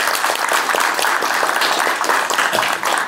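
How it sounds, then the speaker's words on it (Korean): Audience at a National Assembly policy forum on fire-safety contracting claps to welcome the committee chair to the podium, a loud, close, continuous burst of many hands with individual claps standing out. "큰 박수로 맞이해 주시기 바랍니다"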